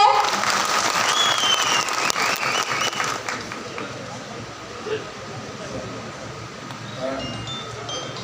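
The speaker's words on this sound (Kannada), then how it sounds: "ಜೋರಾದ ಚಪ್ಪಾಳೆ." Loud applause from the audience at a meeting of fair price shop owners in Karnataka, dense clapping that starts strong and slowly thins, with scattered voices and background noise of the hall.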